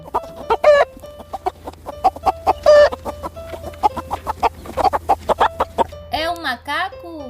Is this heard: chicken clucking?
yes